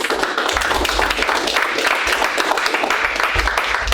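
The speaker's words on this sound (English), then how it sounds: "give a round of applause to my good friend over here, Mr. Barrett Brooks." A crowd at a STEM academy talk applauds, dense and steady clapping at moderate loudness, continuing throughout without pause.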